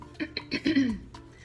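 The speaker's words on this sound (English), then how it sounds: "I keep having to clear my throat" A single throaty clearing sound, close and fairly loud, rising mid-clip after some faint rustling, with no speech.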